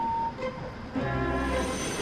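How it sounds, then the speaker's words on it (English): A heavy train rumbles and hums as it gets moving, with a long steady drone and a brief horn-like tone early on. "The heavy train drew out of the platform."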